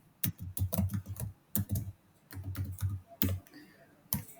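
Typing Python code on a computer keyboard, bursts of quick, close key clicks in uneven clusters with short pauses between them, fairly quiet and with no talk.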